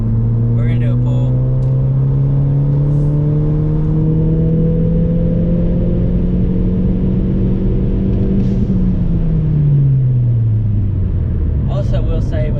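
A Mazdaspeed 3 engine pulls hard at full throttle, its loud rising drone climbing steadily for about eight seconds before dropping off with a shift or lift, recorded from inside the car.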